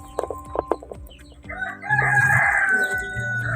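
Chickens in a backyard coop, a Rhode Island Red laying hen among them, give a few sharp clucks up close before a loud rooster crow rises and holds, with more clucking beneath it.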